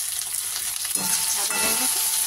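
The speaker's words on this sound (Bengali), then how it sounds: "তাহলে একটু কালো জিরেটা একটুখানি ভাজা হোক" Nigella seeds fry in hot oil with a steady, bright sizzle throughout, and a few louder crackles and stirring scrapes come partway through.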